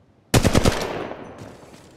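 Rapid burst of automatic weapon fire in the battle royale game Apex Legends Mobile, about five sharp shots in quick succession, loud and close, followed by a decaying echo tail with no talk.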